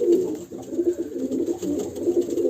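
Pigeons coo steadily inside a large coop, soft throaty calls overlapping in a continuous low murmur close by, with no talking.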